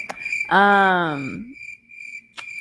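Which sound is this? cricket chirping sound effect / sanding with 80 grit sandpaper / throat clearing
cricket chirping sound effect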